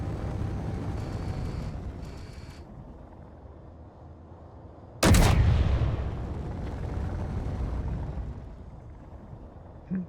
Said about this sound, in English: There's a lot of gunfire.